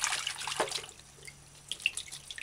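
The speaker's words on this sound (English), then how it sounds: "add wash your raw mushrooms. And then kind of just wash them off properly." Raw mushrooms are rinsed under a running kitchen tap in a bowl of water with white vinegar, giving soft splashing and trickling that fades to gentle drips, close and quiet.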